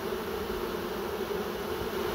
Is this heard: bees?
yes